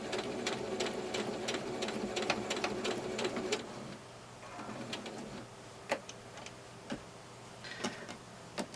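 A sewing machine stitches a pocket in a fast rapid ticking run, then stops and resumes with slower, sparser stitches while reversing to reinforce, close and fairly quiet.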